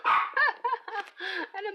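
A dog yips and barks rapidly in the background, a string of short, high, voiced calls close together with a whining edge.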